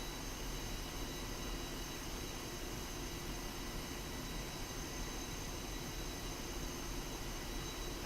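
A jet aircraft taxiing toward the runway in the Digital Combat Simulator flight game, its engine a steady, unbroken broadband roar and whine that holds at an even level throughout, with no voices.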